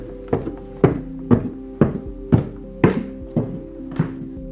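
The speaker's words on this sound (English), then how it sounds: "The wooden steps creaked under his weight." Footsteps thud on old wooden attic steps, about eight evenly spaced, hollow knocks in a steady climbing rhythm, close by and alone with no talk.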